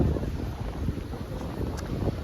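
Strong wind buffets the microphone with a low, rumbling roar, steady and gusty, near wavy sea water in Sicily with no voices.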